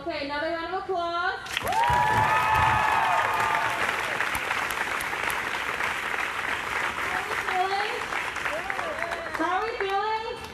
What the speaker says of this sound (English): Okay, another round of applause.